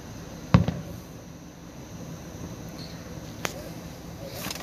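Fireworks and rockets at an Independence Day display go off in the distance, with a sharp nearby bang at the start, a couple of fainter pops later, and a constant crowd murmur.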